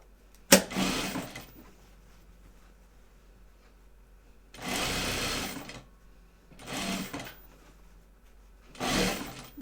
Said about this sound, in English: And sew down. Because that's the seam line.